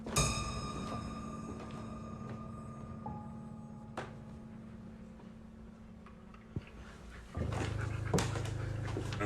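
A dog pants steadily and whimpers softly close by indoors, with a few sharp clicks and a louder rustling shift near the end.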